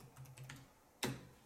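A few soft keystrokes on a Freewrite Traveler keyboard, quiet close clicks followed by one sharper, louder key press.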